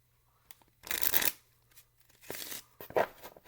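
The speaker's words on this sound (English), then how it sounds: "So the cards are shuffled" Playing cards riffled in two bursts, a longer crisp flutter followed by a shorter one, close and clear against a quiet background.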